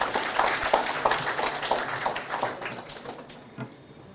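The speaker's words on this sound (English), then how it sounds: "We can definitely have another round of applause for that." A crowd at a Bangladesh-Canada friendship celebration claps, the applause strongest at first and gradually fading to a few scattered claps.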